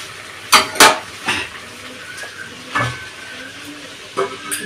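A lid is set onto a cooking pot of sole fish simmering with potato and eggplant. Several sharp metallic clanks ring out close by over a faint background sizzle.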